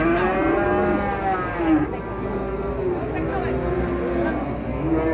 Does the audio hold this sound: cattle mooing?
yes